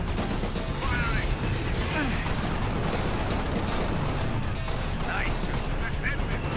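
Gunfire in the Halo: Reach video game during a beach firefight, sustained loud weapon fire and clatter running throughout under a busy game mix, with a speaking voice at times.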